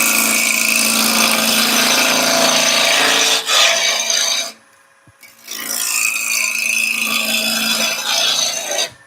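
A wood lathe spins a wooden spatula blank while a tool cuts it, giving a loud, close, continuous rasping scrape that drops out briefly midway and then resumes.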